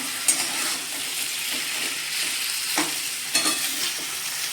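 Spicy potato slices fry in a kadhai while being turned over, a close continuous sizzle with a few sharp scrapes and knocks of the spatula against the pan, and no talking.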